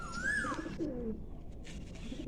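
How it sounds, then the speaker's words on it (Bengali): Pigeon calls inside a loft, a hen bird among the flock: a rising and falling call near the start, then a low coo and softer bird calls faintly over a steady background hiss. "এই হচ্ছে মাদি পায়রাটি"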